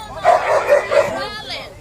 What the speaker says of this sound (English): Who damn dog is that in the background to keep barking?